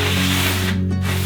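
A coat of primer being sprayed in a DIY garage, a dense steady hiss close to the nozzle that cuts out briefly near the end before resuming.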